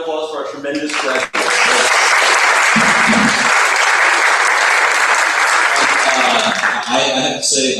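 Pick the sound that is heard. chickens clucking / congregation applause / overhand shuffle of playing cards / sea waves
congregation applause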